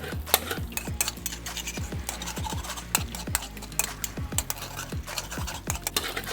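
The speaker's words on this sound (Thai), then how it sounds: "เดี๋ยวเอากุ้งใส่ต่อครับต่อด้วยกุ้ง" Shrimp stir-fried with instant noodles and egg in a pan, with a utensil clanking and scraping against the metal in quick repeated strokes over a low sizzle, close and busy.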